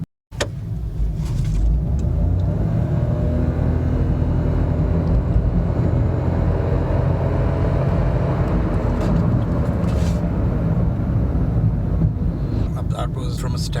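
A Nissan Note e-Power accelerates hard from a standstill, heard from inside the car. A steady, loud drone of motor and road noise builds after a brief quiet start and carries on continuously for several seconds.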